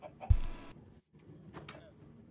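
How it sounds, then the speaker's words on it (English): Chickens in the video game Haven give a few clucks and squawks, one louder burst followed by softer calls. "Hi, security chickens."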